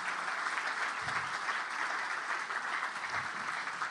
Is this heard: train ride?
no